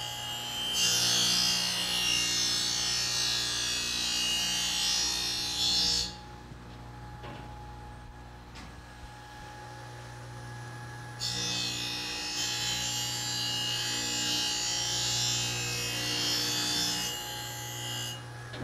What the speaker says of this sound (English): Locking the traverse, starting the grind.